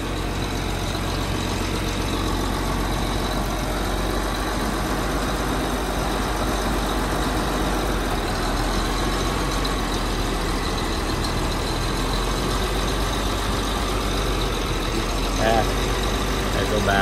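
Farm equipment engine running steadily at a low, rumbling idle throughout, loud and close, with voices talking faintly underneath during a Christmas equipment shuffle.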